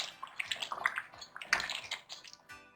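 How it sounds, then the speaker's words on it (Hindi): Half a cup of water is poured into a beef kofta curry, a quiet trickling splash with small bubbly droplets, close by and faint, with no talk. "हाफ कप पानी इसके अंदर ऐड करूँगी।"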